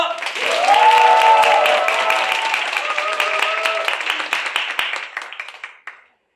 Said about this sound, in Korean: 많은 환호와 박수 소리로 시작하겠습니다.